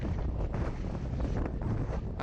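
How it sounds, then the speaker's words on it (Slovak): Strong wind buffets the microphone in a steady, loud low roar that never lets up, with gusty swells and no other sounds coming through. "Dôkaz, že skutočne fúkalo."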